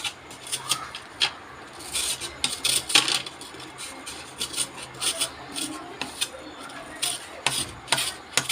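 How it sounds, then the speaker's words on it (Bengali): A potato is rubbed against a metal grater in repeated rasping strokes, each a short scratchy burst with brief pauses between them, close and moderately loud. "আলুটাকে আমি ব্রেটারে গ্রেট করে রাখতে বার করে নিলাম"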